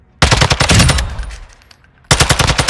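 Rapid automatic gunfire from a shooter video game, a dense burst of shots that fades into a decaying tail, then a second loud burst resumes near the end; no talking.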